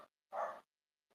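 Dog barking over a live audio call, a single sharp close bark in a quiet gap, with brief clipped sound fragments just before and after.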